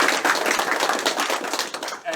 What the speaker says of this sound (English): please, round of applause for the organisers